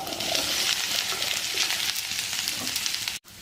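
Okra sizzles steadily in hot oil with mustard seeds, cumin, green chillies and onion, a dense close crackle that runs throughout and cuts out briefly near the end.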